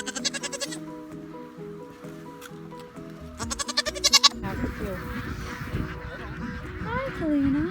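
Nigerian Dwarf goats bleat close by during hoof trimming, with two quick bursts of rapid, pulsing cries and a softer call near the end, while people talk in the background.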